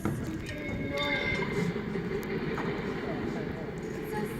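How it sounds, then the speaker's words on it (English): A train rumbles past in a steady, continuous wash of wheel and rail noise with a faint clattering rhythm, moderately distant and without pause, with voices talking faintly over it. "Oh, please, look! The train!"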